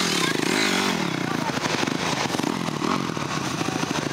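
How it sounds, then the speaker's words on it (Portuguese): A yellow dirt motorcycle climbs a steep trail wall, its engine loud and rough with rapid revving and popping bursts, close by and under a mix of crowd noise. "Essa moto amarela que tá vindo aí é avião, Tony."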